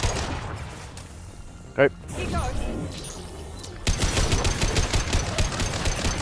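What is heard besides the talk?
heavy gunfire in Mass Effect video game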